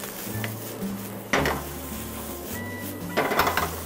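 Butter sizzling in a pan of Western-style fried rice, a soft steady sizzle under clattering utensil scrapes and knocks against the pan, with a few sharper clanks.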